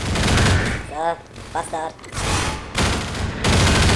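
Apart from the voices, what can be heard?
gunfire in the video game Half-Life 2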